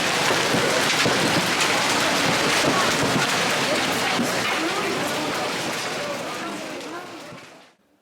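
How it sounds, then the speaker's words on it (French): Heavy rain and hail pour down during a storm in Paris, a dense, loud, continuous roar of drops and hailstones hammering surfaces for about seven seconds before cutting off abruptly. "j'ai vécu une inondation, une agression de grêlons"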